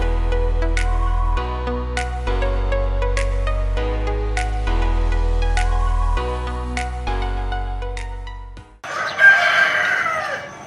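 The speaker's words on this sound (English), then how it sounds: "After an early start, courtesy of the neighborhood cockerels" Neighborhood roosters in Ubud, Bali: after a long stretch of music, one rooster lets out a single loud, close crow near the end.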